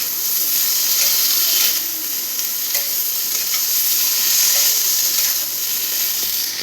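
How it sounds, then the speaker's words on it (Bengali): Potatoes frying with cumin, ginger and coriander paste and turmeric, a loud, close, steady hissing sizzle that runs throughout with faint stirring scrapes underneath. "আর দিয়ে দেব হলুদ 1/2 চামচ, দিয়ে ভালো করে কষে নিতে হবে।"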